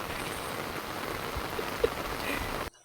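Heavy downpour while walking through floodwater, a dense continuous hiss of rain with faint splashes and one small knock, cutting off abruptly at the end.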